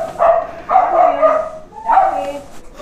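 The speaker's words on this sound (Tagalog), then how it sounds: "O, ayan, may aso rito eh." Dog barking nearby, three loud, drawn-out barks with whiny tails spaced across a few seconds, close and clear with little else around.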